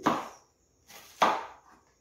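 Fresh garden cabbage sliced by hand with a knife: two crisp cutting strokes about a second apart, close and clear, with quiet between them.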